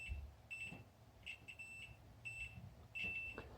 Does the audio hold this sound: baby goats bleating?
no